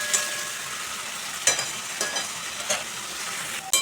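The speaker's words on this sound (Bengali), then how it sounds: "এবার সব কিছু ভালো করে কষিয়ে নেব।" Prawns with chopped tomato, salt and spices sauté in a pan, a steady close sizzle punctuated by several crisp spatula scrapes and knocks against the pan, with no speech.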